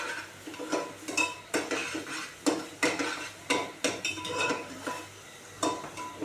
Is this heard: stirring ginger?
yes